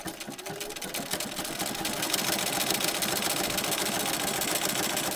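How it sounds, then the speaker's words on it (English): A sewing machine runs a long zigzag stitch, a steady fast mechanical whirr with rapid rhythmic needle clatter that builds slightly at the start and then holds even, close and with no talk. "now I'm going to start sewing. I'm going to adjust and make the zigzag just a little bit on the long side."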